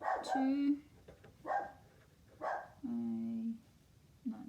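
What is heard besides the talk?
dog barking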